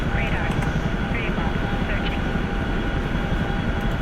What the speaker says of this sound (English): I just can't handle that Chinook volume.